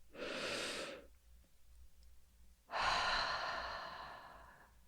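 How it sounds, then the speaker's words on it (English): Two slow, deep breaths during a guided meditation, the first a breathy exhale lasting about a second, then after a pause a longer, fuller breath of two seconds, heard close and soft. "with a nice cleansing breath in again"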